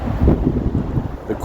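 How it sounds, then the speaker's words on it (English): Strong outdoor wind buffets the microphone in cold weather, giving a loud, continuous low roar that swells and dips without pause. "It's really windy out here too, so it's like a chilling cold right now."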